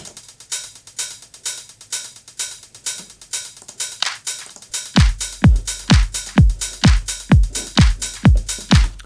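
Programmed drum groove with a rolling 16th-note hi-hat whose velocity ramps up and down, a steady crisp tick pattern that later sits over punchy, pumping kick hits; loud, close and without any voice.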